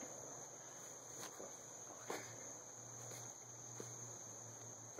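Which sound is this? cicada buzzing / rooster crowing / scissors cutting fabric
cicada buzzing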